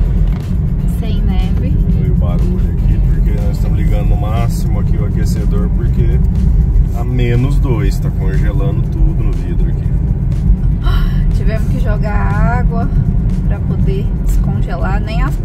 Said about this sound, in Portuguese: o barulho aqui, porque nós estamos ligando no máximo aqui o aquecedor